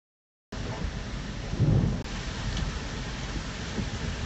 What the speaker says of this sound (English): Intense lightning and thunder in the eye wall.